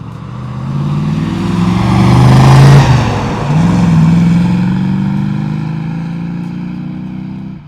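A 1969 Ford Mustang Mach 1 roars past, its V8 rumble swelling loudly to a peak, then falling in pitch as the car pulls away into a fading drone.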